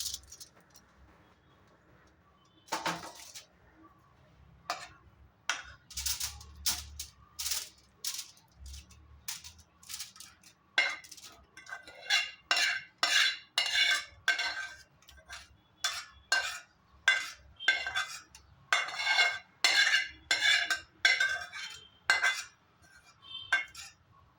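Mango pickle is spooned and spread across a paper-lined steel plate: sparse metallic taps at first, then a dense run of scraping strokes and clinks, close and fairly quiet, with no talking.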